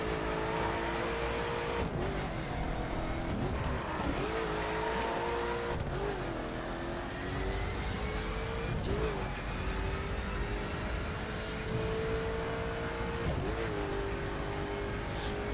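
A Koenigsegg Agera R supercar driving in the racing video game The Crew, its engine droning steadily at high revs with repeated rising and falling pitch sweeps as it shifts and accelerates, continuous and fairly close throughout.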